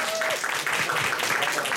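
Broadband applause fills the whole stretch for a child's act at a Żabka talent show, with scattered claps and a few faint voices underneath.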